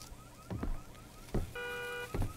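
A steady electronic alarm tone rings for about half a second inside the horror video game Visage, set amid low thuds and muffled rumbles, fairly quiet and with no one speaking.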